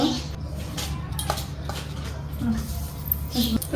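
Dishes, pots and utensils being washed by hand clink and clatter in irregular bursts, moderately close, over a low steady background hum.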